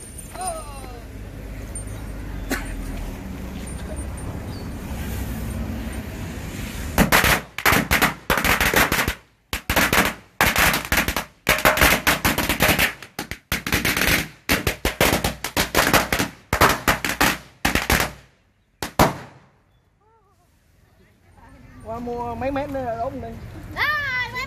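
Strings of firecrackers set off at Wat Chalong temple in Phuket, a long, loud, rapid crackling barrage of bangs with brief gaps, ending in silence before voices talk nearby.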